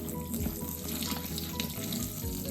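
Water running and splashing steadily over slices of bread soaking in a bowl for a homemade bread pudding, a continuous close wash of pouring with no talk.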